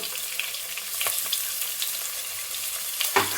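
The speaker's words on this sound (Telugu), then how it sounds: "అల్లం వెల్లుల్లి పేస్ట్ కొంచెం ఆయిల్లో వేయించడాము" Ginger garlic paste fries in hot oil for baby corn fried rice, giving a close, steady hissing sizzle broken by a few sharp stirring clicks.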